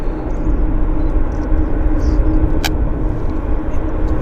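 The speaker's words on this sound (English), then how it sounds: "We've got Air Canada 551 from LAX on approach." An Air Canada airliner on approach from LAX rumbles as a steady, broad roar that stays loud and even for a few seconds, heard from an airport spotting location with no talk.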